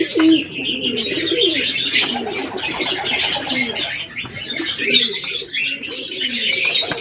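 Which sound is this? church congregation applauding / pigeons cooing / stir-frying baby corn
pigeons cooing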